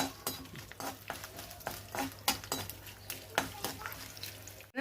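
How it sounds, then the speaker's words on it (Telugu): Cumin, fenugreek, dried chillies, urad dal and garlic sizzle in hot oil as they are tempered, with a spoon stirring and scraping the pan in sharp clicks over a steady fry. "జీలకర్ర, కొంచెం మెంతులు, ఎండుమిరపకాయలు, మినపప్పు, కొంచెం వెల్లుల్లిపాయలు ఇవి వేసుకొని తాలింపు వేయాలి."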